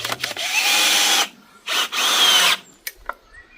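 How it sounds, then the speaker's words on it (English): A two-speed cordless drill drives a screw into wood while a chicken run is being built, two loud, close whirring bursts separated by a short pause. "Now if you've got 2 speeds on your drill, something like this, set it to 1 and probably on to 24."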